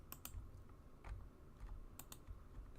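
Faint clusters of clicky keystrokes on a computer keyboard, typed in short bursts with pauses between them, quiet and fairly close over a low background hum.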